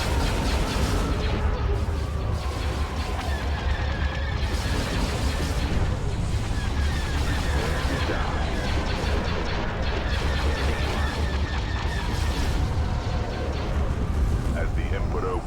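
Continuous barrage from a broadside cruiser launching long-range missiles in a Star Wars space battle game, dense booming and crackling fire sustained throughout, with a voice talking over the din.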